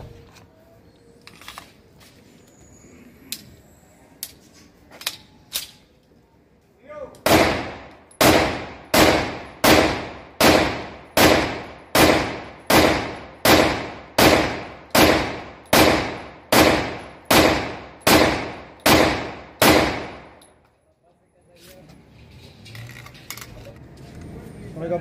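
An Infinity 30 bore pistol being test-fired outdoors: about fourteen loud, sharp shots in a steady, evenly spaced rhythm, preceded by scattered light clicks and followed by quiet.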